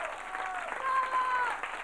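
A studio audience at an Italian satirical TV show applauds steadily, a dense wash of clapping with a voice faintly over it.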